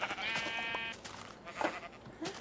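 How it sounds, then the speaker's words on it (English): A sheep bleats in Minecraft, a drawn-out wavering bleat at the start followed by a few shorter game sounds. "Oh wow, I got experience for killing a sheep."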